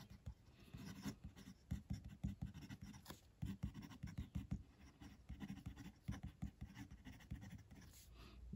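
A steel fountain pen nib, a Fine Writing International pen, scratches across paper in a close, quiet run of short strokes with an uneven rhythm and no voice over it.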